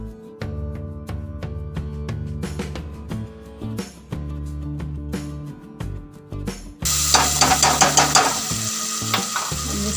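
Tomatoes drop into a hot pan for dhaba-style daal maash and sizzle loudly, after a stretch of clinking and stirring; the frying hiss swells sharply and stays steady to the end, close and with no talk.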